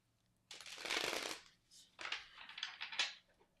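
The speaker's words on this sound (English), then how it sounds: "I'm going to give it a good shuffle a couple times here." A deck of tarot cards riffled and shuffled close up in two quick bursts of crisp, papery flutter, fairly quiet, with no talking.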